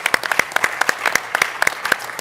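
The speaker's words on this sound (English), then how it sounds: "Let's give them a round of applause." Audience applause at a Korea-U.S. alliance peace conference and reunion, a steady run of many hands clapping together, moderately loud and fairly close, with no talk over it.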